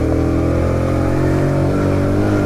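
The buzzing 50cc engine of a Daytona Hobby motorbike runs loud and close, holding a steady, busy drone with slight pitch wavers as gears are swapped.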